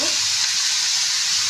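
Cabbage frying in a pan gives a steady, close, bright sizzle that runs unbroken for the whole short stretch, with no voice.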